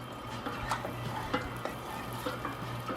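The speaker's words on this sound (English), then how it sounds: "I'm stirring the solid ingredients to make them dissolve in there." A spoon stirs pickling brine in a pot on the stove, the solid ingredients dissolving as it heats toward a boil for jalapenos; soft repeated scraping and swishing over a low steady hum, with no talk.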